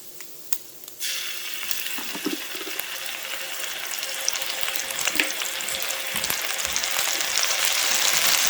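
Garlic drops into hot bacon grease in a pan and bursts into a loud, close sizzle that swells and holds steady, with a few light clicks of stirring.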